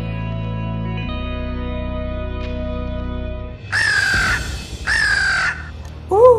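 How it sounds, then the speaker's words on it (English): A cartoon crow, Maleficent's pet raven-like bird, gives two loud, harsh, echoing caws after a steady droning hum, followed by a short higher squawk at the end. "Oh no, it's Diablo, Maleficent's crow."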